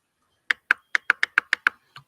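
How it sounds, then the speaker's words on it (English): Crisp computer mouse clicks, about nine sharp close taps in a quick irregular burst against silence. "If you can hear that clicking, guys, that's just me with the mouse here."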